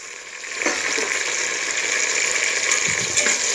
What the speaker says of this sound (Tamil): நீ தக்காளி வந்து நல்லா வதக்கி வச்சுக்கணும்.